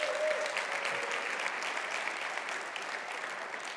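Keynote audience applauding a storyteller at a corporate conference livestream, a dense, steady wash of many hands clapping, moderately distant, with a faint tone at the start.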